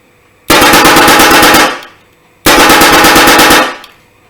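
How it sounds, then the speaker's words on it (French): Two long bursts from an airsoft M249 Hydra Wolverine set to a lower rate of fire, each a loud, rapid, rattling string of shots lasting over a second, separated by a short silence. "Rafale cadence plus basse. Encore plus basse."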